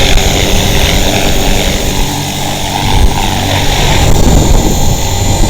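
A 450-size RC helicopter flies up close in breezy, gusty weather, its rotor and motor giving a loud, steady whine and buzzing drone that swells and fades slightly as it hovers near.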